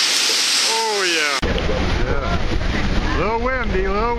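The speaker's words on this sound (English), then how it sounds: "A little windy here." Wind buffeting the microphone on a boat near Niagara Falls, a constant loud rushing roar throughout, with voices talking over it.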